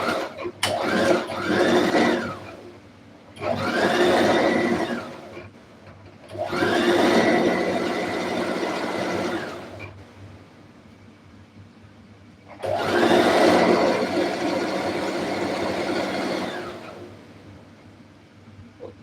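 A sewing machine joins two fabric pieces with a straight seam, running in four whirring bursts of a few seconds each and separated by short quiet gaps, close and fairly loud, with no talking.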